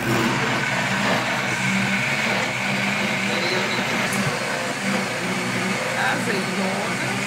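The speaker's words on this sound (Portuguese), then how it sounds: "Vai tudo pro liquidificador." A kitchen blender whirs steadily, emulsifying ricotta and Greek yogurt for a pâté, a loud continuous motor hum with a slight rattle throughout, while a person talks over it.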